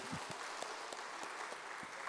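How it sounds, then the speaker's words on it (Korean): In a Korean church afternoon service, the congregation claps together to cheer on a women's mission society, a quiet, slightly distant patter of hands with faint regular accents, like a loosely shared rhythm. "제사 여전도회 힘내라고 박수 한번 칩시다"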